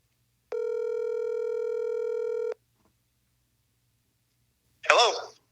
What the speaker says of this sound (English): I'm gonna call you on this other phone.